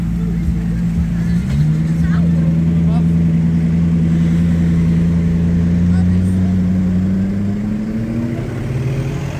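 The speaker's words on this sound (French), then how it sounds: "la 8C ça fait un boucan les amis" An Alfa Romeo 8C Spider engine roars loudly and continuously in Monaco, its deep rumble holding steady and rising slightly in pitch, with voices faintly audible beneath it.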